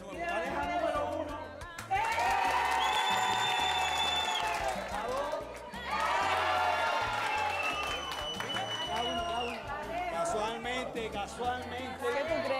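A crowd applauds and cheers in a sustained, loud wash of clapping, with a brief dip partway through before the applause swells again.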